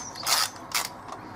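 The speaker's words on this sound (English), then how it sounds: "It is just an 8mm spanner, so there we go." An 8mm spanner working a bolt on the chain cover of a Lexmoto ZSX 125 motorbike, two short close ratcheting scrapes and a fainter third, no voices.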